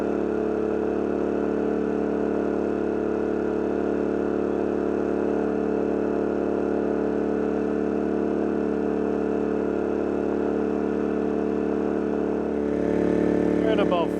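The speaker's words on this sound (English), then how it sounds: "I'm just overloading the generator, trying to get it to shut off" Dual fuel generator running overloaded near 4350 watts, a steady loud engine drone with strong harmonic hum holding constant, then a brief rise and wavering pitch near the end as the load bites.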